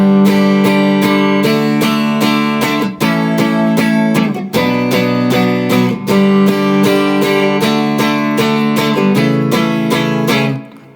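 An electric guitar plays the chorus of a song, loud and close, with continuous strummed chord changes in a steady pulse and no voice.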